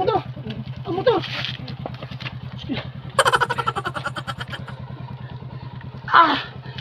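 A motorcycle engine idles and putters with a steady rapid throb, while voices shout over it and another engine revs briefly.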